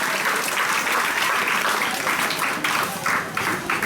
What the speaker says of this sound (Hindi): तालियां बजाकर रखो, आगे भी बजाना है।